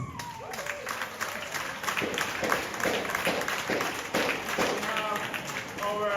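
Audience at the Troy High School annual prize giving ceremony applauding students, a dense wash of hand clapping that swells and carries on with scattered voices and a few shouts mixed in.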